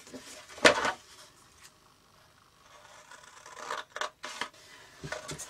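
Scissors cutting a piece of craft card to size: a sharp close snip, then quieter rustling and scraping as the card is handled, followed by a few more short snips, faint overall with no talk.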